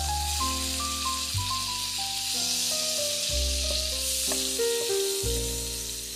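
Butter and flour sizzle steadily in a pan while being stirred together, a constant close frying hiss under sustained background music with shifting chords.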